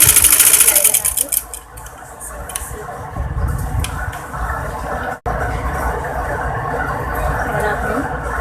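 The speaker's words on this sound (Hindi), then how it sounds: "अब हम सबसे पहले इस पर एक सिलाई लगा देंगे इस तरह से" Sewing machine running a line of stitching on a pressed V-shape collar neck, a loud close mechanical whir that slows, pauses briefly, then resumes steadily.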